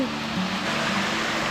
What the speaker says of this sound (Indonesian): Tuh, airnya bening, bergemericik.